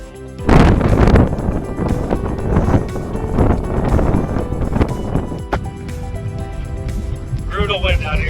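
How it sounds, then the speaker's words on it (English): Strong gusty wind buffeting the microphone on a desert hiking trail near the I-10 in Southern California, a loud, continuous rumbling roar with surges, with a voice speaking briefly near the end. "Brutal wind out here"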